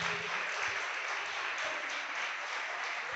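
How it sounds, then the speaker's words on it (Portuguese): A church congregation applauds, a steady even wash of clapping heard from a distance, fairly faint, with no break across the short stretch. "Aplauda Jesus."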